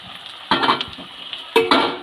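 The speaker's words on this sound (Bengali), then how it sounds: "এই আলুগুলো ভালো করে ভেজে নেব" Diced potatoes and onions frying in a pan for an egg curry, a steady low sizzle broken by two short scraping stirs of a utensil against the pan, close by and with no voices.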